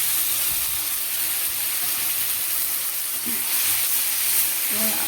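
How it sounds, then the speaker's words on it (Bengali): Onion paste frying in a pan for a vegetable paneer dish gives a steady, close sizzle throughout, with faint stirring and no talking. "এটাকে আবার একবার লাল লাল করে ভেজে নেব।"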